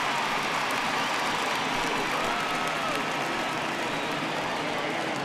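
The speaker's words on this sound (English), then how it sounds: "he receives a nice ovation from this home crowd" Home crowd ovation in MLB The Show 20 during a Padres at Marlins game, a steady wash of applause and crowd noise that stays loud and even, with no talk heard.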